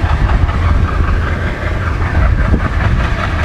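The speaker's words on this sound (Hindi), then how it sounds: "रामनाथपुरम से अपनी ट्रेन डिपार्ट करती हुई" A train pulling out of Ramanathapuram station in India, a steady loud rumble of wheels and carriages with faint clickety-clack, continuous and close, with no voices.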